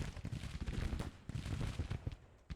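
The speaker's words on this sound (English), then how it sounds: "Oh, it's just the artillery." Dense, rumbling artillery fire booms continuously in a Civil War battle in the Grand Tactician video game, with overlapping distant cannon and gunfire.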